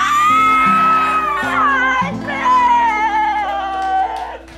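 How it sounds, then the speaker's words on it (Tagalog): A studio audience at a Filipino TV variety show whoops and shouts for a kiss, a loud, sustained crowd cry mixed with tonal music and voices for over four seconds. "Kaya ang sigaw ng ating studio audience, oh, kiss daw!"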